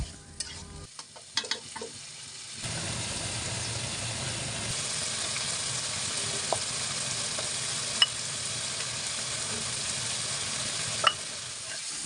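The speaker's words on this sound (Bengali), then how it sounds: "সবার প্রথমে আলুগুলোকে কষিয়ে নিতে হবে" Parboiled potatoes being sautéed with spices in a pan, a loud continuous sizzle after a few opening clatters, with occasional knocks of the stirring spoon.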